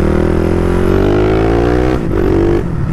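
A Honda Twister motorcycle fitted with a 79mm big-bore kit accelerates hard, its engine note climbing steadily, dipping briefly as it shifts, then pulling up again, loud and close throughout.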